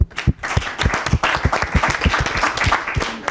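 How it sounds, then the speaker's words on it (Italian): A studio audience applauds a junior football team on a children's TV quiz show, dense close clapping with rhythmic claps standing out, loud and continuous. "Un applauso."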